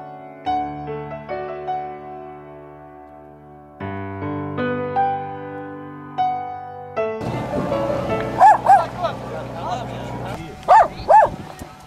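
Dog barking over a calm music backdrop, several sharp barks bursting out near the end, loud and close after a quiet musical opening.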